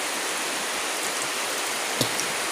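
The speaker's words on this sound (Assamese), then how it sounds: "এতিয়া বৰষুণ আহি গেল" Steady rain falling in a monsoon-season outdoor setting, a continuous even hiss with a couple of brief louder drips or taps near the end.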